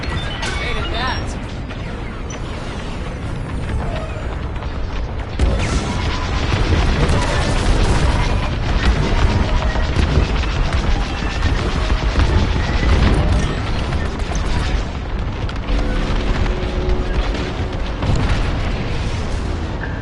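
A cruiser explodes in a space combat game, a heavy, rumbling blast that swells and lingers in deep booms through dense battle noise, with voices speaking over it.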